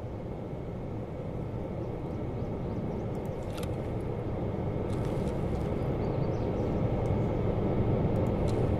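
An airplane drones overhead in the Escape From Tarkov video game, a steady low rumble that swells gradually louder, with a few faint clicks over it.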